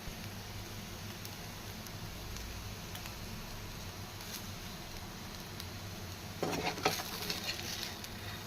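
Taro root (colocasia) frying in a pan gives a steady, faint sizzle throughout, with a louder burst of crackling and stirring toward the end.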